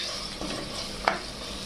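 Ground masala paste of coriander and garlic sizzling in a pan while being stirred, a steady soft frying hiss with a brief scrape of the spoon against the pan, fairly quiet with no talk.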